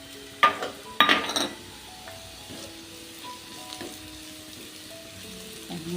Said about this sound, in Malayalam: അതിലേക്ക് കനം കുറച്ച് അരിഞ്ഞ് വെച്ചിട്ടുള്ള പച്ചമുളക് ഇട്ട് കൊടുക്കാം.